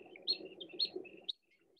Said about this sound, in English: That's what a little black winged stilt sounds like.